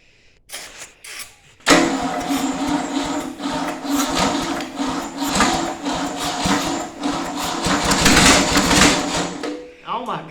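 After carb cleaner is sprayed in, a garage engine fires and runs roughly, its loud uneven chugging and clatter going on for several seconds, with a voice talking over it.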